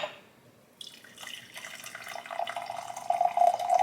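Warm water for matcha runs from a tap or is poured into a cup, starting after a short quiet moment and growing steadily louder and brighter over a few seconds, with no talking.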